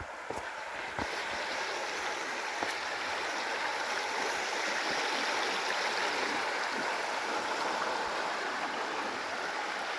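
A creek at a trail water crossing rushes steadily and loudly, a constant broadband wash of flowing water with no pauses, heard outdoors with only faint incidental knocks.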